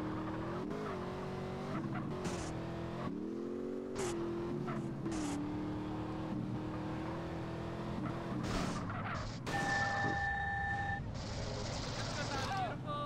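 A car in GTA San Andreas revs with a constant engine drone while it slides out of control, broken by tire squeals and skids, and a voice talks over the game sound.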